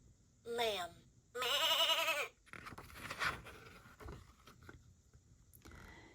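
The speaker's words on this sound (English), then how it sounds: "Lamb." A farm lamb gives two loud, wavering bleats close by, one short and one longer, followed by fainter rustling and scattered quieter sounds.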